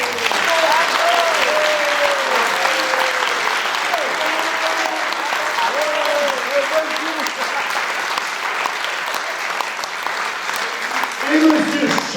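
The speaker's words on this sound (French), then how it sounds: "Je voudrais vraiment que vous applaudissiez très très fort" A jazz concert audience gives a guest, Monsieur Yves Michel, a long, loud round of dense applause that holds steady for about twelve seconds, with a voice sounding faintly over the clapping.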